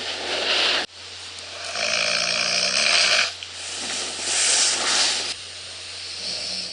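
Loud, raspy snoring from a sleeping person, played back from a recording, repeating in long breathy bursts with a steady low hum underneath and a sudden break near the start.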